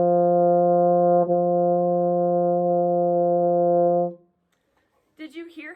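A brass instrument holds a steady long tone on concert F in a ha da da warmup exercise, with one slight articulation bump, then it stops and a voice speaks briefly.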